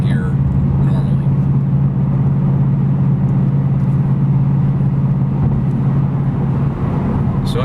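A Ford Mustang GT fitted with an MRT Interceptor cat-back exhaust cruising at about 1700 RPM gives off a steady, loud, deep low drone that holds evenly throughout.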